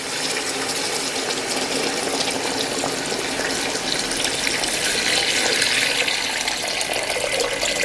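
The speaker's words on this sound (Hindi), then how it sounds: "अब इसके अंदर हम शामिल करेंगे पानी" Water, about five litres, pours steadily into a pot of browned nali nihari meat, a continuous close gushing splash with a bright hiss that swells slightly toward the end, without talking.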